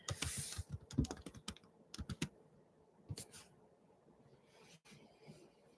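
Someone types on a computer keyboard in bursts of quick, close keystrokes with short pauses between them.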